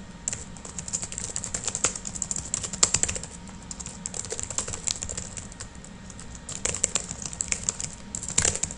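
Rapid, uneven clicking of keys on a computer keyboard, close and continuous with short pauses, no voices.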